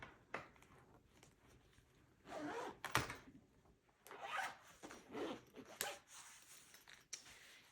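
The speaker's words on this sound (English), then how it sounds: "And then you zip this guy up." A zipper on a fabric sewing retreat bag is pulled in several short quiet strokes with pauses between, close and soft.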